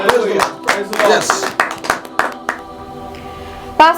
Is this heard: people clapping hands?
yes